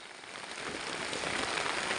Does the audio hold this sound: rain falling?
yes